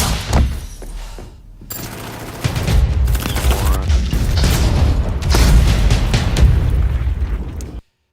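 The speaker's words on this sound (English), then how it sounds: "like gunfire, but there's a lot of contour to it. Like, it's like bam, bam, bam. I can count the gunshots I heard" Gunfire from a film soundtrack, dense rapid bursts of loud gunshots and booms that keep going for several seconds before cutting off abruptly.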